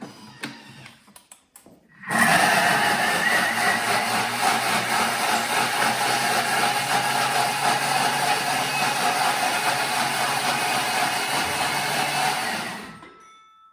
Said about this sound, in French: on va mixer 10 secondes, vitesse 10. C'est parti pour un petit peu de bruit